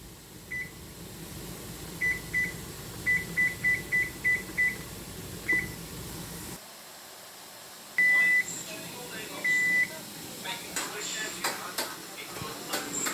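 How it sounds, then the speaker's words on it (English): A kitchen timer is set for steaming orange puto cheese, giving a string of short, evenly spaced electronic beeps followed by a couple of longer tones, clear and close in a quiet room. "I'll set timer for 18 minutes."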